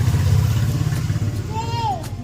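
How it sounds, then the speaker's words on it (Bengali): A motorbike rumbles past on a street, its steady engine drone close and loud under a child's and an adult's conversation. "বাইক আসছে"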